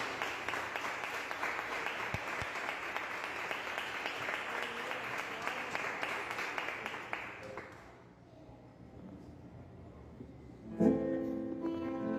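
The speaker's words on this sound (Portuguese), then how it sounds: "Vamos aplaudir o Senhor bem forte" A congregation in a garage church service applauds strongly and steadily for several seconds before the clapping fades out, followed by quiet and a brief burst of music or voice near the end.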